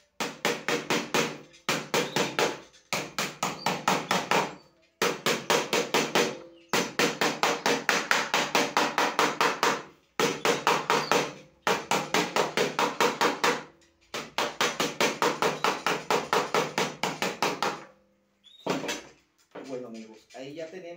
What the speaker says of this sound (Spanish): vamos a golpear un poquito con el martillo para darle